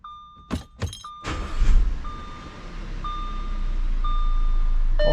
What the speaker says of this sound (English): Now let's check and make sure that the blower motor